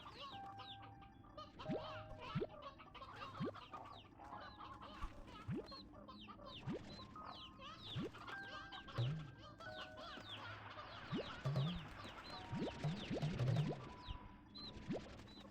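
Chickens cluck and squawk steadily in Slime Rancher 2, with roosters among the birds: a busy, close flock of short clucks and honk-like calls, louder near the end, with no speech.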